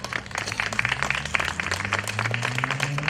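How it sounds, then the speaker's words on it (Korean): Dense clapping of encouragement from the audience at a festival opening ceremony, a continuous patter of many hands at moderate level over a low hum, without clear speech. "임원진과 준비위원들께 다시 한번 힘찬 격려의 박수를 드리고 싶습니다"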